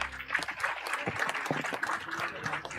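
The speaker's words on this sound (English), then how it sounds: "A huge round of applause for all the awardees." A crowd at a college awards ceremony claps steadily throughout, a dense patter of many hands at moderate volume.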